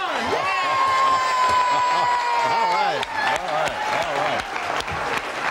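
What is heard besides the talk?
studio audience applause and cheering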